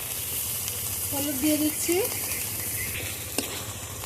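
Tomato and spice paste sautés in oil with a soft, steady sizzle, heard under a brief spoken remark and one sharp clink near the end.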